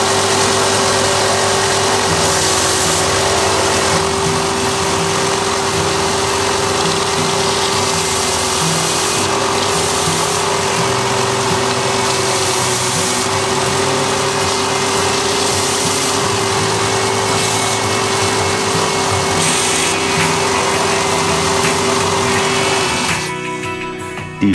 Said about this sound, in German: schleift jetzt wieder wie Harry her